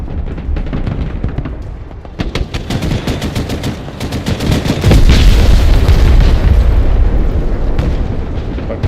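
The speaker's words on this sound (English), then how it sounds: "We just blew everything up." Rapid gunfire bursts and heavy explosions in a shooter video game, loud and dense, with a sustained rumbling blast swelling from the middle and rolling on to the end.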